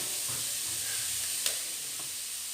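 Tofu stir-fry being stirred in a hot pan with sweet soy sauce and tomato, a steady close sizzle with faint spatula scrapes and a single sharp clink partway through.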